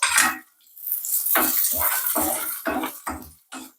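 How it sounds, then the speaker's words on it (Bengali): Water poured into a pan of frying onion, garlic and spices, giving a sharp burst of hissing and bubbling, then a series of short splashing, sizzling spurts as it is added and stirred, close by. "একটু জল দিয়ে দিই এটা"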